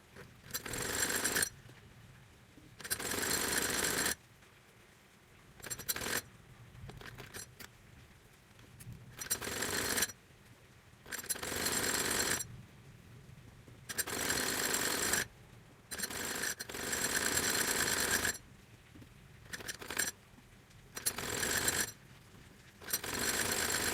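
A sewing machine stitches a fabric strip onto a maxi dress, running in repeated bursts of several seconds separated by short pauses, fairly quiet and with no talking.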